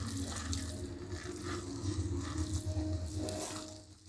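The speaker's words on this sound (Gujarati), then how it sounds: "પાસ્તામાં આપણે ઠંડુ પાણી નાખી દઈએ એટલે એ ઓલા નહીં થાય" Cold water poured from a tap over cooked pasta in a home kitchen, a continuous splashing stream over a few seconds that fades out at the end.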